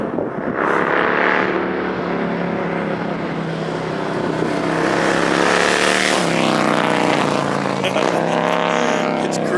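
A Harley-Davidson Road Glide motorcycle with a skinny front tire and crisp exhaust approaches, its loud, steady rumble building with a rising rev near the end.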